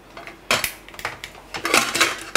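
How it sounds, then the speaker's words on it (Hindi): A metal pressure cooker lid is fitted and closed on a pot of spinach and paneer, giving a series of sharp clanks and scrapes at close range, with no talk. "ये ले, कुकर किया बंद"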